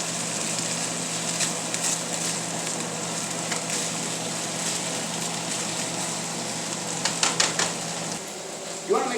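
Mushrooms and peppers sautéing in butter in a pan give a steady, even sizzle that carries throughout, with a few light clinks and stirring sounds near the end.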